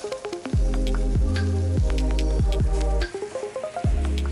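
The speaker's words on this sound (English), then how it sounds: "I'm going to add in my eggs" Eggs hit a pan of hot bacon fat with a loud crackling sizzle that starts abruptly, then repeated sharp spattering bursts and pops as the frying continues, close and busy.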